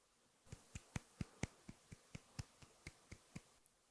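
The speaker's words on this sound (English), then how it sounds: "That's my sad clap." A sad clap sound effect: about thirteen sharp, sparse single claps in a slow, even rhythm, quiet and isolated against a near-silent background.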